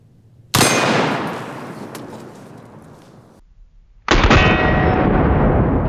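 Two loud, close gunshots from a .50 Beowulf rifle firing 300 grain FTX rounds at a pineapple and a watermelon, each a sharp blast with a long rolling outdoor echo, the second following about three and a half seconds after the first.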